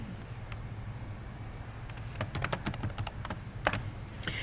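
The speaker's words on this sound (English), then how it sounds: "All you have to do is click and start typing." Rapid, irregular clicking of keys on a computer keyboard, starting sparse and growing into a busy burst of close, crisp taps over a low steady hum.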